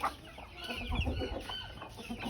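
Aseel chickens cluck softly and repeatedly at close range in a farmyard, in a short, faint stretch of low, throaty calls with no talking.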